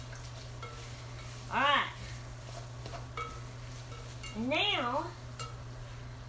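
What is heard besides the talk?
stirring goulash in a pan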